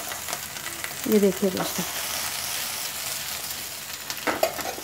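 Okra frying in a nonstick pan for a curd gravy bhindi dish, a steady sizzle with a few clattering tosses and a brief spoken remark over the cooking.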